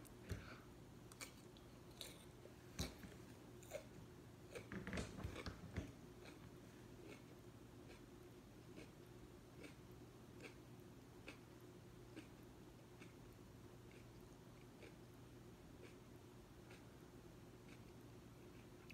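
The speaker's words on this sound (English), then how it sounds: "A lot of pod to chew, a lot of flesh." A Chocolate Bhutlah pepper pod being chewed, close and very quiet, with soft wet crunching clicks that are busiest at first and then settle into a slow, faint rhythm. There is no talking.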